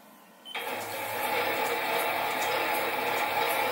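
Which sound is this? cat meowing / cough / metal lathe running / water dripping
metal lathe running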